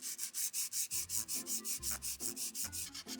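Rhythmic back-and-forth rubbing of sandpaper over dried putty on a wooden Victorian-style dollhouse, steady quick strokes, close and soft with no voices.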